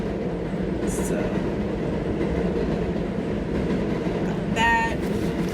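Trains rumble past in a continuous low roar that fills the whole stretch, with a short high squeal early on and a louder ringing screech of metal toward the end, and a voice briefly heard underneath.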